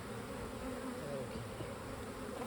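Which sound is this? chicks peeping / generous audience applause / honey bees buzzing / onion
honey bees buzzing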